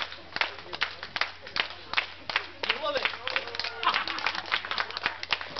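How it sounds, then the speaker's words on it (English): Party guests at a family party night clap in a steady run of sharp, close claps, with people talking and calling out over and between the claps. "Go on, give him a clap."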